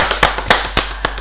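Clapping at a Kyrgyz comedy stage show with tamada hosts: sharp, close hand claps in a slow, even rhythm, about five distinct beats spaced roughly a quarter second apart, with no talk over them.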